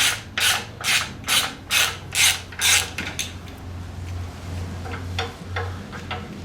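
Ratcheting tool working a broken bolt loose on the Dragon Wagon, with six rhythmic metallic rasping strokes up close, then softer, uneven scraping and clicking.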